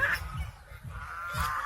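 Ordinary waterfowl at a lake give three loud, close honks spaced about half a second apart over a soft outdoor background.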